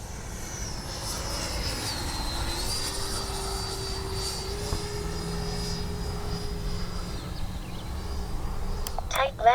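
A Freewing L-39 twin-ducted-fan RC jet turns around in flight, a steady whining engine drone with a slowly shifting pitch that holds throughout. A short sharp noise comes near the end.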